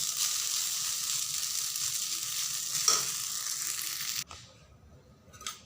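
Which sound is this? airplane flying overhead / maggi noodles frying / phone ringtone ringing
maggi noodles frying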